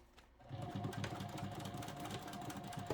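A sewing machine stitching a quarter-inch seam on a boxy fabric pouch, its rapid, even needle chatter starting after a brief quiet moment and running steadily up close for the rest of the clip.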